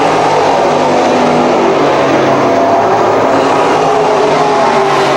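Late model race cars roar around Can-Am Speedway in a feature race, a dense, loud, continuous engine drone with overlapping cars passing.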